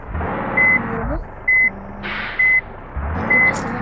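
A vehicle's reversing alarm beeps four times at an even pace, loud and close, over the low rumble of an idling engine, with people talking in the background.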